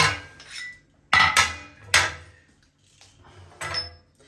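A hookah being taken apart completely, its metal and glass parts clinking and knocking in several sharp bursts with short pauses between, close by and alone without talk.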